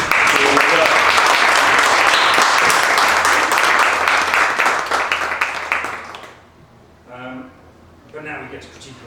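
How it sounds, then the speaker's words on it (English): A crowd applauds loudly for several seconds, the clapping fading out before a voice begins speaking. "I think we should give you another round of applause"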